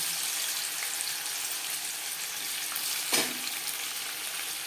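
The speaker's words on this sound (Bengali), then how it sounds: "লবণ দিয়ে পনির ভাজলে কড়াইতে লেগে যাওয়ার সম্ভাবনা" Paneer salted in a kadai of hot oil gives off a dense, even hiss and crackle of frying, close and steady throughout, with one brief louder clack midway and no voices.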